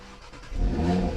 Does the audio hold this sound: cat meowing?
no